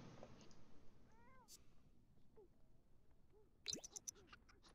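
A Sims 4 cat gives several soft, short meows spread through the clip, faint and close, with a brief scratchy rustle and small game clicks in between.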